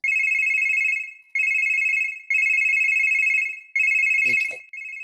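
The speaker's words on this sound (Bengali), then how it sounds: "এ সময় আবার কে ফোন করলো" A telephone rings loud and close in a run of repeated electronic ring bursts separated by short gaps, with a brief rustling noise near the end.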